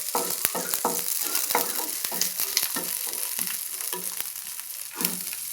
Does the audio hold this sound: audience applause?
no